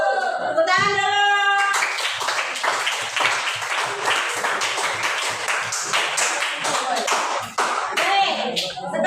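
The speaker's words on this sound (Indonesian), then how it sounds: "Tepuk tangan dulu." A classroom of students claps together, starting with a brief voice and then a burst of many hands, loud, close and rapid, fading slightly toward the end.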